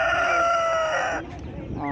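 A rooster crows loudly and close at a Kyzylorda poultry market, the sustained call cutting off into a few clucks and market noise.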